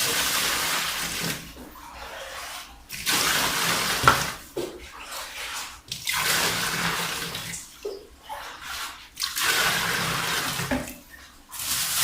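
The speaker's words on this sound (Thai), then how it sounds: "เดี๋ยวเดี๋ยวตักน้ำใส่ กระมังนะครับ" Water is scooped and poured into a basin in repeated splashing bursts separated by short quiet gaps, close and moderately loud, with no voices.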